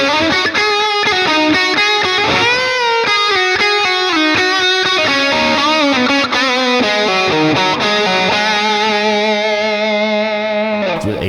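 A heavily distorted 1980s-style electric guitar lead, played through a Mooer Prime M2, soars with bends and sustained notes, loud and continuous, with chorus-like shimmer and reverb.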